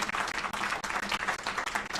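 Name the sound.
applause for discussants at a legal conference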